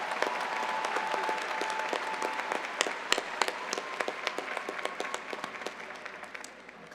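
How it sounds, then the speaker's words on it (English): A large audience applauds at the Adelphi Class of 2022 commencement ceremony, with steady dense clapping and several sharper individual claps standing out, continuing for about seven seconds before tapering slightly. "Let's give her another round of applause."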